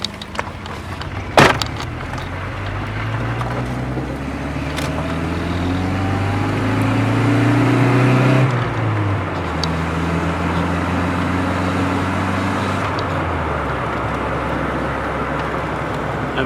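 Volvo 740 or 940 car driving steadily on the road during a speedometer check, with a loud, continuous engine and tyre drone whose tones rise and fall with speed and a brief knock near the start.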